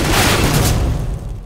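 Gunfire in the CS:GO video game on the Train map: a dense, booming burst of shots that fills the clip and then fades slightly toward the end.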